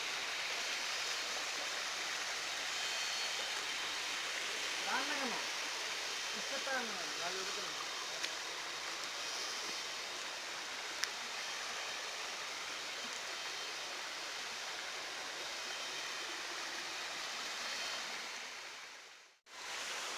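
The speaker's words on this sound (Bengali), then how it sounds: "এখান থেকে ঝিরি ঝর্ণা পড়ে, চারপাশে পাহাড়ি ঝর্ণা এইভাবে বেয়ে যাচ্ছে" Waterfall and hillside streams at Khoiyachora in Mirsarai rush in light rain, a steady broad hiss of falling water that continues for most of the stretch before cutting out near the end, with a faint voice briefly audible early on.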